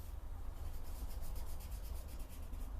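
Pencil shading on paper, a soft continuous scratchy rubbing with faint rhythmic back-and-forth strokes, close and quiet, with no voices.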